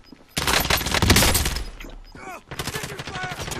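Bursts of automatic gunfire from Call of Duty Warzone, a loud dense volley after a brief quiet start, a short pause, then more rapid shots with a voice briefly audible between them.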